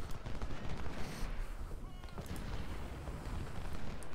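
Cannon fire in the video game Ultimate General: Civil War, a rolling roar of artillery and massed gunfire with repeated booms under a faint voice.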